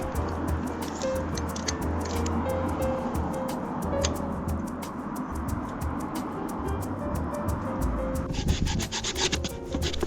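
Wooden chair legs being sawn to shorten them by 4 cm, a continuous rasping of repeated back-and-forth strokes, close and steady throughout with no talking.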